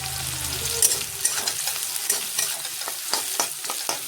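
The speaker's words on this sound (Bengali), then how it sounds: "কড়াতে দিয়েছি পেঁয়াজ আর পাঁচফোড়ন" Onion and panch phoron frying in a wok (kadai) for a vegetable curry, a steady close sizzle with a low hum beneath and repeated scraping stir strokes throughout.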